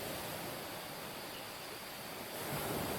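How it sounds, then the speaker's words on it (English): Steady ocean waves as background ambience during a Pathfinder tabletop game session, a constant broad wash of surf that swells slightly toward the end. "the waves sound good."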